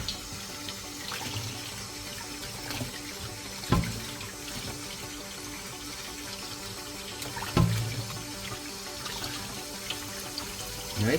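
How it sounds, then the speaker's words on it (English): Octopus is washed under a running kitchen tap, a steady close splash of water with a few louder bursts as it is rinsed and handled, and no speech. "now we're just going to wash everything off"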